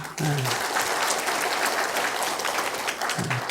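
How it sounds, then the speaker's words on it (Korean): A congregation applauding during a church worship service, a sustained, dense round of clapping from a large room, with brief speech at the start and end. "다 박수하십시다"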